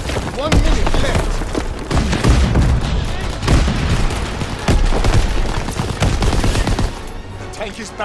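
Heavy gunfire in a Call of Duty WWII battle, sustained machine-gun bursts and rifle shots aimed at infantry beside a tank, dense and loud throughout with booms mixed in, a voice faintly audible under the din.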